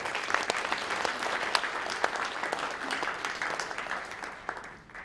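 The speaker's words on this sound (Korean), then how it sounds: "감사를 드리면서 우리 박수 한번 해주시겠습니다" A congregation at a Gyeonggi Christian council New Year prayer breakfast claps together, a moderate, steady patter of many hands with some sharper individual claps, fading slightly at the end.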